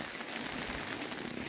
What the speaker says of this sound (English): That's hail falling off my tent.